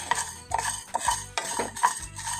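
Chilies are dry-roasted in a pan over the lowest flame and stirred with a wooden spatula. Close, loud scraping strokes repeat about every half second, with light clatter against the pan between them.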